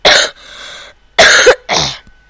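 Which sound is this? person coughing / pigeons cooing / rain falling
person coughing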